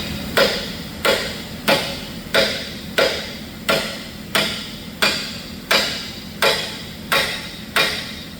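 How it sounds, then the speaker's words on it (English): A hammer lightly taps bearings onto forklift mast rollers, about a dozen sharp metallic strikes at an even, unhurried rhythm, close and clear with no talking. "you can see also how little effort I'm putting into just driving those on there. Just a little tappy tap tap"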